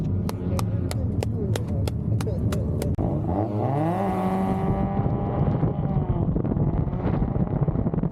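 A Mazda Miata drift car hot lapping on a track snarls through rising and falling engine revs with rapid gear shifts, heard from inside the cabin under heavy wind and road roar, with a voice talking over it.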